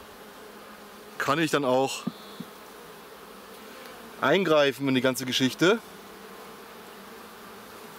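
Honeybees buzz steadily around hive frames during Miller-method queen rearing, a low continuous drone running under two stretches of close German speech.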